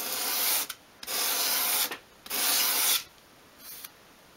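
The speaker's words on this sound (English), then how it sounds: "at a 45-degree angle against your sandpaper, and keeping it at that angle, just sweep it towards you" Strokes of wood being swept at a 45-degree angle across sandpaper to bevel a small 1/12th-scale storage-unit part, three long broadband rasping passes and a fainter fourth, close and steady with pauses between, no talking.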